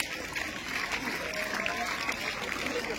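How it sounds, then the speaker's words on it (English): An audience at a school maths day quiz claps for the winning team, a brief, steady round of moderate applause with voices mixed in. "Claps."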